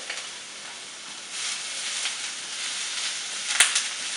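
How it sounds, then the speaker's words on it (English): Minced garlic and onions sauté in a hot pan for a cheesy spaghetti squash meal, giving a steady, fairly close sizzling hiss that swells slightly partway through, with a brief sharp clink near the end. "And then we'll also add in that minced up garlic."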